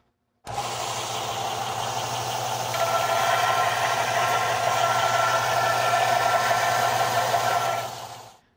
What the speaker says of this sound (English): This is a vertical belt sander from Big Tree Tools